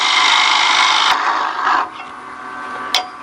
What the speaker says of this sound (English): Now this one I'm going to drill.